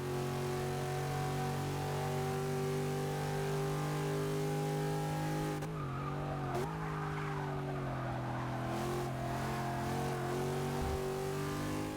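A Pontiac Aztek's engine drones steadily through a flying lap in the racing game Forza 6, holding a sustained tone before dipping and shifting pitch under a brief tyre squeal midway, then rising again, continuous and fairly loud with no voices.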